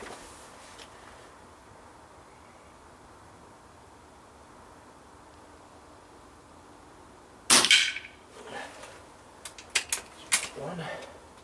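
An air rifle fires H&N FTT pellets into a wooden target: a sharp crack after a long quiet stretch, followed by several quicker smaller snaps and knocks near the end.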